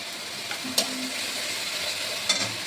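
Onion paste and ginger-garlic paste frying in hot oil with cumin, garam masala and dried chili for a katla fish kaliya, a soft steady sizzle with a couple of brief clinks of a spoon against the pan.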